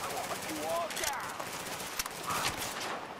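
Gunfire in Tom Clancy's The Division during a rooftop comm relay fight, bursts of shots crackling under people talking.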